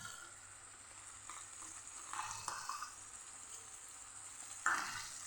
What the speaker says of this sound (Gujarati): આમ આ દહીં મિક્સ કરેલું મસાલો એ આપણે હવે સાતળવાનો છે અહીંયા